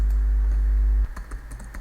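Computer keyboard typing: a short burst of crisp key clicks in the final second, right after a loud, steady low hum cuts out.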